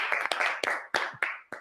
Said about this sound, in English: I'll clap by myself.